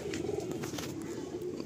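Giribaj pigeons coo in a high-quality pigeon loft at Lakhikantapur, a steady low murmuring of several birds that runs continuously and close by.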